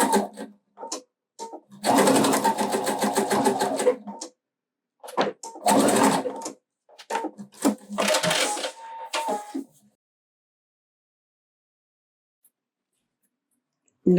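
A sewing machine stitches a fabric piece of a backpack in three short bursts of rapid, close mechanical whirring separated by pauses, then falls silent.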